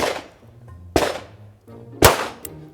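Three sharp gunshots ring out about a second apart, each loud and close with a long echoing decay and low rumble between them.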